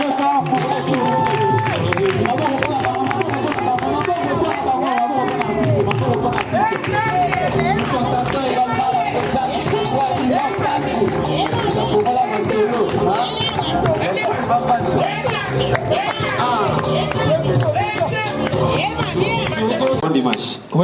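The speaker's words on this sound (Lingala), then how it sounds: "Applaudissez très très fort pour" A studio audience at a comedy show claps loudly and continuously, dense applause mixed with crowd chatter and babble that never lets up.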